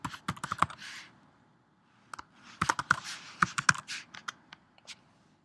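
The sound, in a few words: typing on a computer keyboard to rename an object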